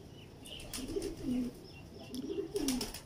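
Pigeons coo nearby in soft, low, repeated throaty calls, several in a row over a faint background with light rustling.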